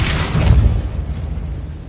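A Convulso spell goes off in the Hogwarts Legacy video game with a deep, loud, booming burst that rumbles low and fades out over about two seconds.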